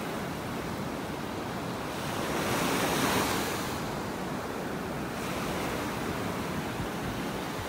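Ocean surf rolls onto a beach in North Naples, Florida, a continuous broad wash of breaking waves that swells and eases, with wind rushing over the microphone and no voices.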